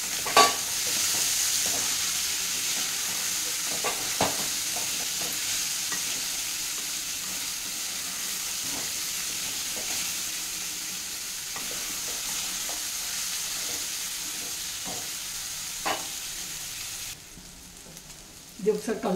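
Raw banana pieces fry in a pan for Telugu aratikaya vepudu while a utensil stirs them, a continuous hiss of sizzling oil broken by scattered scraping and clinking strokes, close and fairly even, no talking.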